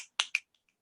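Two crisp finger snaps in quick succession during a children's song session, close and clear, followed by faint softer snaps.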